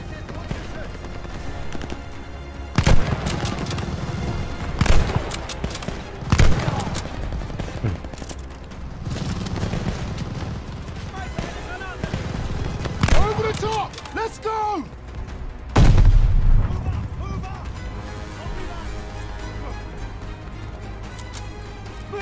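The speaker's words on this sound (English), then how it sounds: "They always have machine guns." Machine gun fire rattles in bursts throughout a Call of Duty Vanguard battle, mixed with scattered shots, impacts and battlefield noise, with voices calling out over the fighting.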